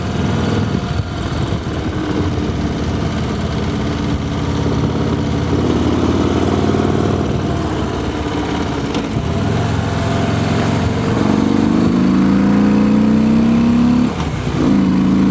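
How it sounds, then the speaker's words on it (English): Harley-Davidson Low Rider ST motorcycle engine running steadily while riding on Swiss roads, a loud continuous drone with pitch rising and falling through gear changes and throttle, near and constant throughout with no talk. "Chasing Porsches in Switzerland on a Harley-Davidson Low Rider ST."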